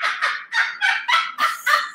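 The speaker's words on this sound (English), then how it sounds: "that is Rocky, our 20-year-old Moluccan cockatoo" A 20-year-old Moluccan cockatoo gives a rapid series of loud, harsh squawking calls in a regular rhythm, about seven bursts in two seconds.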